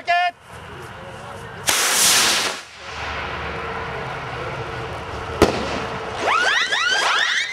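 Firework rockets at an open shoot night launch with sharp whooshing hisses, burst loudly overhead with crackling sprays, then more crackling effects spread out near the end while voices are heard between launches.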